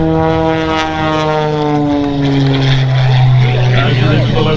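An aerobatic propeller airplane at the Wings Over Wayne air show pulls an inside loop, its engine droning loud and near with pitch sliding down and climbing as it turns, while an announcer talks over it.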